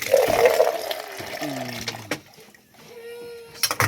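Water pours and trickles off a full tarp and a corrugated metal roof after rain, a close splashing flow that rises and fades in bursts, with a voice talking intermittently over it.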